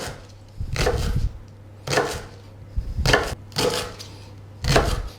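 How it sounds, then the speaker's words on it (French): Knife slicing leek, white part only, into thin rounds on a board: about five separate bursts of blade-through-vegetable cutting with soft thuds against the board, close and fairly clear with pauses between strokes. "je vais d'abord en premier lieu couper en tranches fines le poireau"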